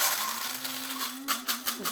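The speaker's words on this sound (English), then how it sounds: "You'll notice my spice grinder, my fancy spice grinder, is a cheap coffee grinder." A cheap electric coffee grinder used as a spice grinder whirs with a steady motor hum and bright, gritty whine, followed by a few rattling pulses as spices for a romesco sauce are ground fine.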